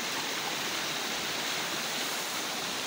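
A stream flows through dense forest on a hillside trek, a steady broadband rush of running water with no breaks, moderately close and alone, no voices.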